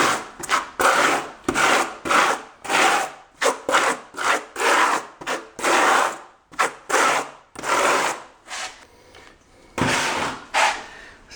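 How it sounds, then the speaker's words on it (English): A small V-notch trowel spreads thinset mortar in repeated scraping strokes, each a rough gritty sweep separated by brief pauses, loud and close with no talking. "I'm just going to thread some thin set here."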